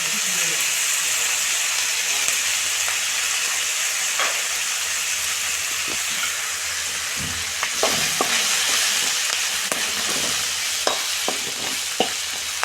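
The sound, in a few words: masala with coconut powder frying in a pan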